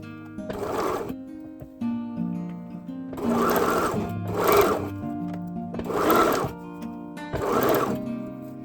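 A sewing machine stitches fabric for a headband, back-stitching at the start. Several loud, close bursts of motor whir are separated by short pauses, with a faint hum between them.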